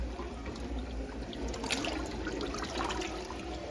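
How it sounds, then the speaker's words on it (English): Kitchen sink water draining away, a continuous close rushing gurgle with a low churning swirl, steady throughout and without voices. "Okay, let this water out."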